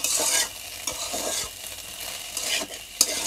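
Egg noodles fry and get stirred in a pan with tomato sauce and sugar, a steady sizzle broken by repeated scraping strokes of the spatula, close and alone with no talk.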